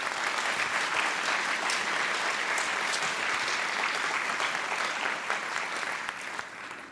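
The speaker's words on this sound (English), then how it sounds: "So a round of applause for all whose advocacy had such an impact" Audience applause at a university fall welcome address, a steady, dense wash of clapping from a large crowd that tapers slightly at the end.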